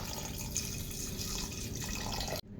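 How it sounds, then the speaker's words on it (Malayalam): Water pours steadily into beef in a pressure cooker for curry, a close, continuous splashing stream that stops abruptly near the end. "നമുക്ക് ഇതിലേക്ക് ആവശ്യമായ വെള്ളം ചേർത്ത് കൊടുക്കാം."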